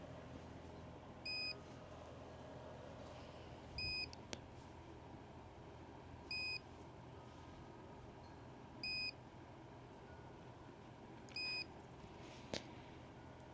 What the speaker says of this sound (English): There is a beeping noise, which is kind of annoying